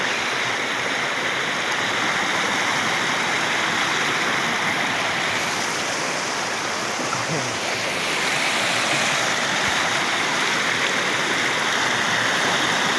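Water flows in a mountain stream coming down from the hills, a continuous loud rushing wash over smooth rocks that stays steady throughout with no voices over it.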